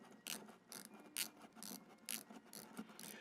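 Omega Seamaster 300m diver's watch unidirectional bezel turning with a series of crisp, close, faint ratcheting clicks in irregular bursts, heard alone.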